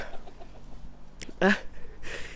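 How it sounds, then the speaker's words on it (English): A single chicken clucks close by, a short burst of throaty calls standing out against a quiet outdoor background. "And here, yeah, you can see chickens."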